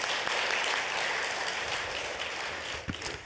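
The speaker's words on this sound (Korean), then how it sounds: "박수로 모시겠습니다." An audience at a Buddhist academic conference in Korea applauds steadily and evenly for the whole stretch, a dense wash of clapping with no talk over it.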